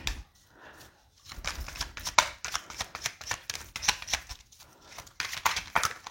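Tarot cards shuffled by hand in a series of crisp riffling and slapping bursts, close and fairly loud, with brief pauses between handfuls and no talk.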